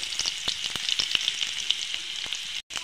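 Garlic sizzling and crackling steadily in hot oil in a kadhai with mustard seeds, for a village-style cowpea pod (chavali) vegetable dish; close, continuous frying with sharp pops, briefly cut off near the end.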